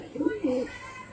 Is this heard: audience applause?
no